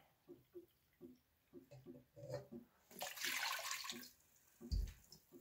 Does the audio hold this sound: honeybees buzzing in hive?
no